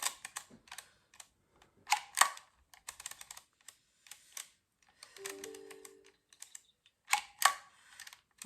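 Keys tapped on a computer keyboard in short irregular bursts with pauses between, soft and close, with a faint brief tone partway through.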